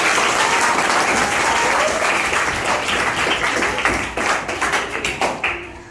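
A classroom of students claps loudly in a dense, continuous burst that thins into scattered individual claps near the end.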